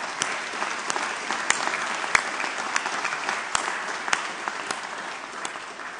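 An audience at a 2019 university business school graduation ceremony applauds steadily for several seconds, dense hall clapping punctuated by a few sharper individual claps standing out near the front.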